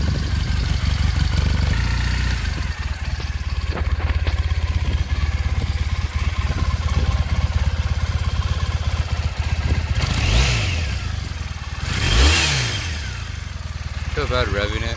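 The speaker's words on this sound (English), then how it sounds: "I feel bad revving it." A 900cc carbureted cafe racer motorcycle engine idles steadily with a low, even rumble, then gets two short throttle blips near the end, rising and falling quickly; the engine is fairly quiet and close.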